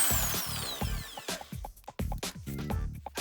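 Cheap drill press boring a hole, with a stuttering, juddering motor buzz broken into short bursts and stops, close and loud, ending in sharp knocks.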